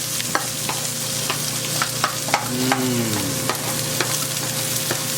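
Onions and green peppers stir-fry in a hot pan for sweet and sour pork, with a steady sizzle broken by scattered taps and scrapes of the utensil. A voice speaks briefly.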